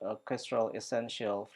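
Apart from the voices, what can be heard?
None of the usual background noises is heard.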